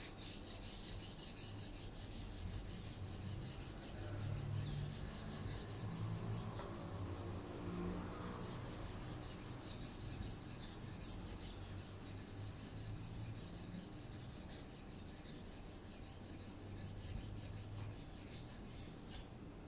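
A knife is sharpened on the smoothing side of a whetstone, with a steady close rasping scrape repeated in long even strokes, alone without talk.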